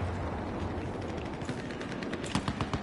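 Battlefield 4 gunfire rattles throughout, dense rapid automatic shots over steady game ambience, sharpening into louder, closer bursts near the end.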